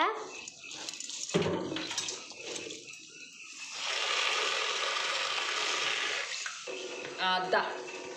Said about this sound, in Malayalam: പരിപ്പിന് ഒരു ചട്ടിയിലിട്ടിട്ട് നന്നായി കഴുകിയിട്ട് വെക്കണം